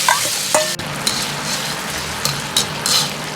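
Egg dish sauce poured into a hot wok and stirred, a loud steady sizzle with scraping stir strokes and a few sharp clinks.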